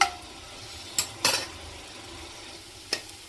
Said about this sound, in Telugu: ఆనియన్స్ వేసిన తర్వాత కరివేపాకు వేసి ఇవి రెండింటిని బాగా ఫ్రై చేసుకోవాలి